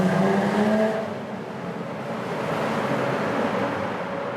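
A Jaguar F-Type sports car in race mode, second gear, its engine building under throttle into a steady rising roar, heard from close by without talk.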